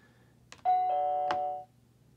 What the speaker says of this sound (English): we are now going to hit the button on the doorbell